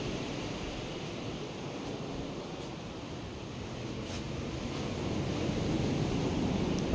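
Steady wash of ocean surf rolling onto the shore at San Juan, a continuous broadband roar that swells slightly louder toward the end, with no voices.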